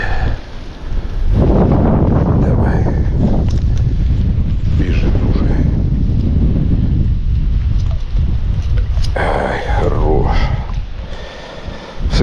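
Strong wind roars and buffets the microphone continuously, a loud rushing blast with gusty surges throughout.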